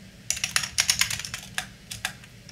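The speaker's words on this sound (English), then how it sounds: "I'm actually much faster at typing, but again, this keyboard" Fingers tap out a quick, irregular burst of keystrokes on a computer keyboard at a desk, close and clear with short pauses between runs and no talking.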